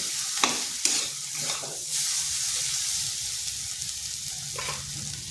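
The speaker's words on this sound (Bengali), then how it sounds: "এরকম ঝুরি ঝুরি ভাজা করে নিয়েছি।" Shredded cabbage stir-fried in a pan, several scraping stirs over a steady soft sizzle, with a later stir near the end.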